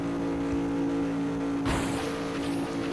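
Miragro junk car engine in the game Gangstar Vegas, a steady droning hum that surges abruptly into harder acceleration partway through, loud and close with no talk.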